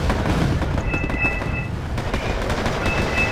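A war video game firefight rattles along with a steady barrage of crackling gunfire and rumbling explosions, dense and continuous at a moderate distance.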